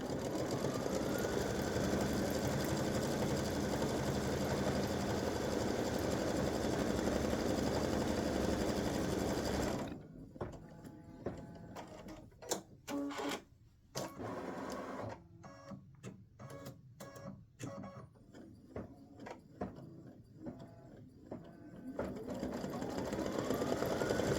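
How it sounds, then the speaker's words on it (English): A machine embroiderer runs an appliqué placement stitch outlining elf shoes on a shirt design, a loud, steady mechanical whirring that breaks into choppy stop-start bursts midway before the continuous stitching hum resumes. "it's going to stitch the placement stitch for the shoes, or the shoe"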